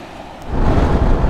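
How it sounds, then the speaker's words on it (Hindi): Sea waves wash onto a beach along a coastline, a loud broadband rush of surf that swells up halfway through and holds, with no voices. "पानी का शोर चेक करें"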